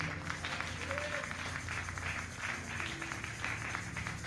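A church congregation claps together during a French-language worship service, a dense, steady wash of applause filling the room throughout, with faint tonal sounds underneath.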